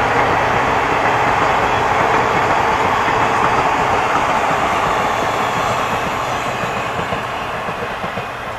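A train rolls past at close range on a foggy rural route, giving a loud, continuous rumble with rattling wagons that fades slightly toward the end; no speech.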